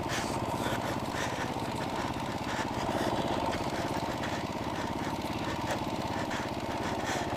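A dual sport motorcycle engine held under steady throttle by a new rider, a constant buzzing drone with an even, fairly close tone throughout and no voices.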